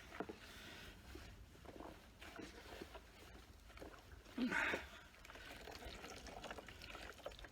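Cold outdoor water sloshing and splashing as a skunk pelt is rinsed by hand, a steady low wash with a louder splash burst midway.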